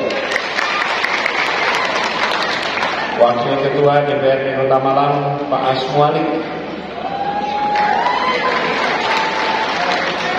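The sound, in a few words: crowd applause at political rally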